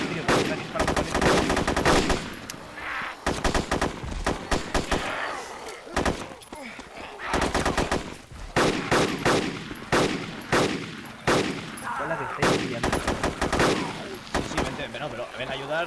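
DayZ gunfire rattles almost nonstop as loud automatic bursts and single shots in a survival game firefight, with a few brief gaps across the stretch.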